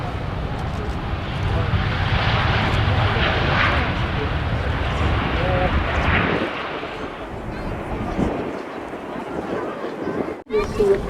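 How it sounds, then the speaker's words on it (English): A Jet2 Holidays Boeing 757-200 landing at Manchester Airport, a loud roaring jet rumble that eases after several seconds, with wind buffeting the microphone and a person talking over it. "just about to touch down there is a 757-200 of Jet2 Holidays"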